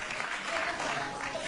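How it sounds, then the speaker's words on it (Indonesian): Studio audience applause on an Indonesian comedy talk show: a dense, steady wash of clapping that fills the whole short moment at even loudness, with no clear talk on top. "Iya, tepuk tangan dong."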